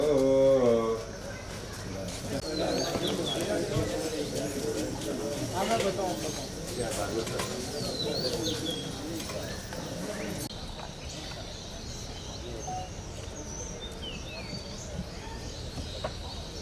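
Pigeons or doves cooing and other birds calling outdoors at a garden event, steady and moderately near, mixed with overlapping talk and crowd noise throughout.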